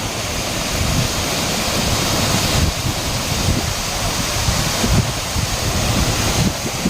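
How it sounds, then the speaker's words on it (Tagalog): A small waterfall pours over big rocks on a rocky mountain river at Tukuran Falls in the Philippines. The rushing water makes a steady, loud, broadband roar, mixed with some wind noise and no talk. "May maliit na falls doon, oh."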